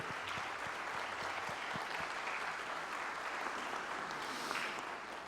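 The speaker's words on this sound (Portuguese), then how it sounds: "uma salva de palmas para Jesus Cristo" An audience at a solemn session in a legislative assembly, honouring a church's 70th anniversary, gives a sustained round of applause: continuous dense clapping, fairly faint and distant.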